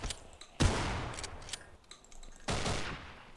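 Shotgun blasts in the Half-Life mod Afraid of Monsters, two sharp booming shots with a decaying tail amid clicks and quieter game sounds.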